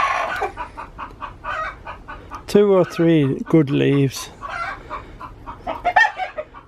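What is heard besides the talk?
hen clucking after laying an egg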